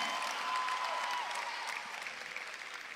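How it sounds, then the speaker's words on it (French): A church youth audience applauding and cheering for guest KS Bloom, a dense wash of clapping that stays steady and then thins toward the end, with a faint tone running through the first half. "Est-ce qu'on peut acclamer pour lui?"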